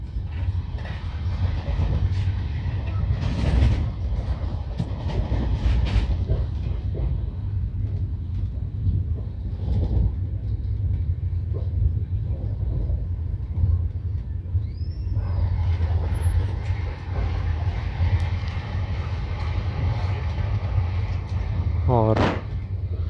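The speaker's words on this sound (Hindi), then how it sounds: "मालगाड़ी क्रॉस हो रही है।" A goods train passes a moving Indian passenger train, heard from inside a coach. Wheels and cars give a steady low rumble with clanks and scattered rattles, and faint voices sound now and then.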